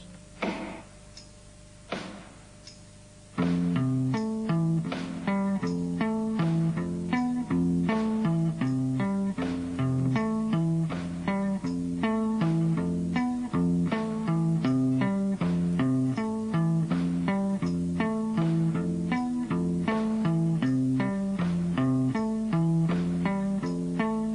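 A bass guitar plays a bouncy, repeating lick of short plucked notes in a steady rhythm, clear and close, with no voices.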